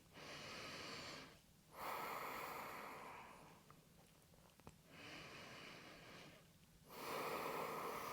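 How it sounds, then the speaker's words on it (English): Deep breaths in and out through the nose during a vinyasa yoga flow, long audible inhales and exhales alternating in a slow, even rhythm, close and quiet. "Find big inhales and big exhales in and out through the nose."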